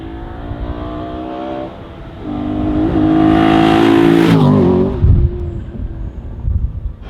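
A BMW E92 M3 track car built for the Nürburgring Nordschleife drives past, its engine building from a steady drone to a loud revving peak as it goes by close, then fading quickly.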